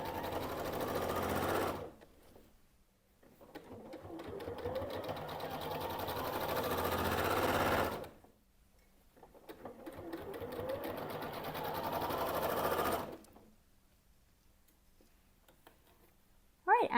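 A sewing machine runs in long steady bursts while stitching binding onto a quilt, stopping and restarting between passes, close and fairly loud.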